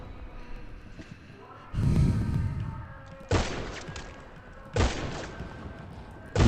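Several loud gunshots in a police roleplay video game, each a sharp blast with a decaying tail, spaced about a second and a half apart over steady background game noise.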